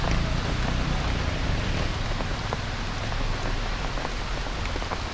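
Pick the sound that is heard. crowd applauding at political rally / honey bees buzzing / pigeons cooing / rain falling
rain falling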